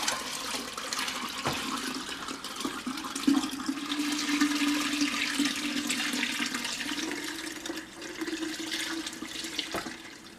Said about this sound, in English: I'm going to be careful here and pour it right into this fermentation vessel